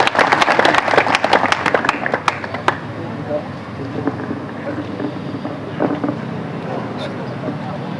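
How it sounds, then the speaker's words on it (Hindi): Crowd clapping at a farmers' highway blockade protest near a toll plaza: a burst of outdoor applause that fades out after about three seconds, then wind noise and a voice speaking. "एक बार तालियां बजा के मैं स्वागत कर दो।"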